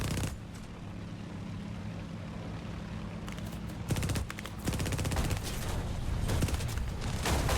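Spitfire machine guns fire in a flight combat game, with long rapid rattling bursts that start partway in and keep repeating over a steady engine drone, loud and close.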